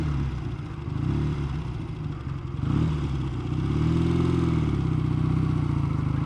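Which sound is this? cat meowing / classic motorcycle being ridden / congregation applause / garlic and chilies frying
classic motorcycle being ridden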